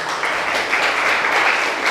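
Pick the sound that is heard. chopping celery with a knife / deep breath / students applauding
students applauding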